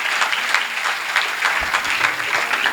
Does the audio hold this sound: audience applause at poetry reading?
yes